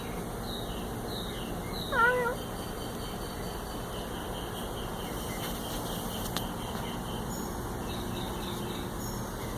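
A caged cat meows faintly once or twice amid a steady background hiss, the brief call standing out only slightly against the room noise.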